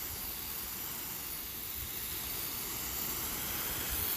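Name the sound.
spraying water over compost in a raised bed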